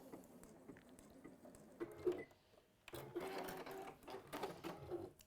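A sewing machine runs a top stitch on a folded fabric pouch, its needle chattering in a quick, steady rhythm through two bursts, the second longer and fuller, with a brief pause between them.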